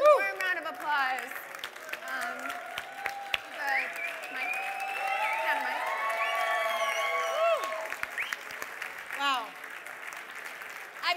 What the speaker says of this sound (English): everyone give them a warm round of applause